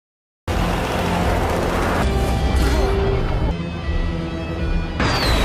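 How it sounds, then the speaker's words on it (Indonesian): Heavy gunfire rattles in a dense, loud barrage mixed with crashes and booms, with abrupt shifts in the noise, in an Indonesian action film scene. "pasukan Ariel yang melihat itu langsung menghujani tembakan ke arah Santi"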